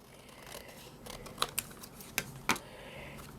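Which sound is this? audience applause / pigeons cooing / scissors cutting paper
scissors cutting paper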